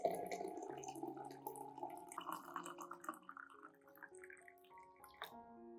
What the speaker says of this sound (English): Add 500 milliliters of hot water to the mixture.